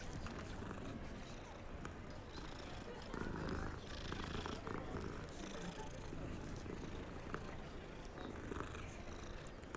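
A cat purrs in the video game Hogwarts Legacy, a continuous low rumbling drone that runs steadily under game ambience and a few spoken words.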